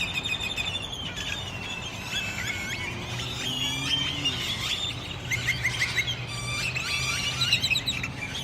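A large flock of birds chirps densely from trees at a Cracker Barrel parking area in Casa Grande, Arizona, with many overlapping tweets and squawks over a steady low traffic hum.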